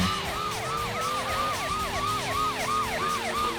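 Wailing police car siren in the Driver 2 video game, rising and falling in a fast repeating sweep over a constant engine hum, loud and continuous throughout.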